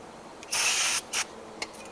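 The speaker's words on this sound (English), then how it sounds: "Take your brake clean, spray it in there, get all kinds of debris out of there." Brake cleaner sprayed onto the front brake caliper of a 2007 Saturn Vue, a loud half-second hissing burst followed by a shorter spurt and a brief faint puff, close up with no talking.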